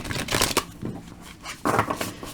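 Two quick bursts of cards being riffle-shuffled, close and crisp, with a short pause between them.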